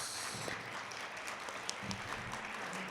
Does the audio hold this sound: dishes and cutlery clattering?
no